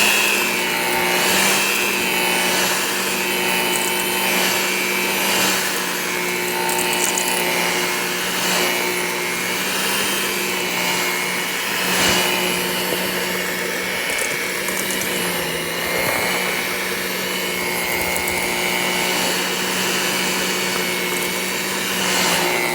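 An electric stand mixer beats lavender shortbread cookie dough in a bowl, a steady, continuous whir that runs unbroken at close range with no voices over it.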